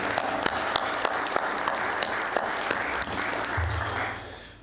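A conference audience at a Greek shipping forum in Greece gives a full round of applause for the organizers, dense and steady before tapering off, leaving a low hum.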